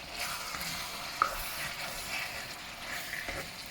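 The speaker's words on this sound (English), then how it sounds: "So it's frying nicely." Free-range chicken pieces sizzle steadily in a hot pan, a constant crackling hiss close by with a couple of faint clicks and scrapes.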